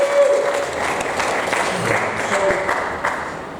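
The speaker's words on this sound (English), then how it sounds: "round of applause for that." Applause at a memorial gathering in Arras, a brief burst of steady crowd clapping, moderately close, with faint voices mixed in.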